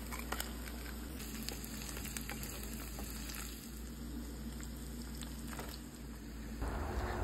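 Eggs and leftover rice fry in oil in a pan, giving a steady bubbling sizzle with scattered crackles and pops, close and fairly quiet throughout.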